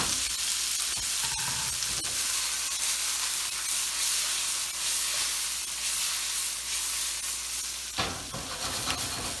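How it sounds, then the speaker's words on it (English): Onions and peppers searing in leftover bacon grease, a steady loud sizzle and hiss with occasional stirring scrapes and a sharper crackle near the end. "that's being seared off in the bacon grease that I cooked the bacon off in"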